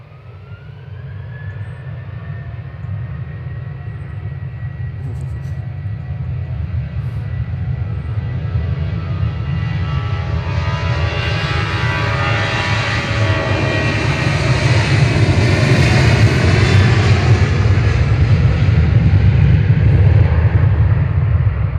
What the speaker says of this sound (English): Departing next, though, is EasyJet to Verona with flight 985.